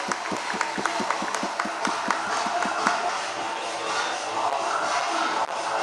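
An audience claps at a traders' association district conference, starting with sparse rhythmic claps that build into dense, continuous applause from a crowd.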